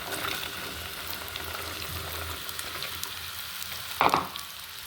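Garlic fries in hot sesame oil in a pan with a steady, moderate sizzle throughout, broken near the end by a brief sharp clink of a utensil.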